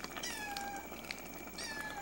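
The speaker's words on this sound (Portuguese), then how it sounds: "Os gatos, Bruno, não podem ver a pessoa na cozinha cozinhando." Cats meow in a home kitchen where food is cooking, several drawn-out mews sounding close and fairly clear over a low background hiss.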